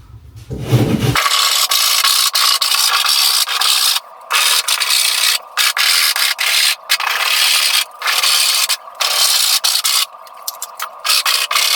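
A cheese-grater style rasp is dragged over drywall compound on a salon wall, making loud, close, gritty scraping strokes with brief regular pauses between them.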